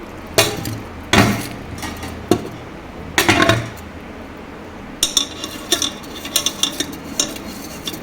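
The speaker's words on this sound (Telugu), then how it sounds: "ఈ రైస్ ఇప్పుడు కుక్కర్లో వేసుకోవాలండి కుక్కర్లో రైస్ వేసుకున్నానండి" Rice is tipped into a pressure cooker while making Karnataka-style bisi bele bath, giving several close, short rattling pours separated by pauses, with no one talking.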